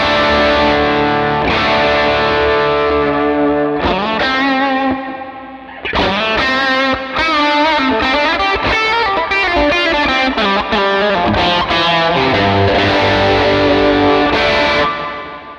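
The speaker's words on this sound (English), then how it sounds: "I'm going to adjust parameters again and give myself a long" Electric guitar played through a Line 6 Pod Go multi-effects unit, with distorted chords and sustained notes washed in a long ambient reverb that swells and rings out, loud and alone with no talking.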